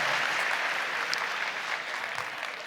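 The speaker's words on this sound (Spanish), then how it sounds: "Pero tienen que aplaudirme a mí." Audience applause at a presentation by a priest fills the room, a steady wash of many hands clapping that holds for a few seconds before fading slightly.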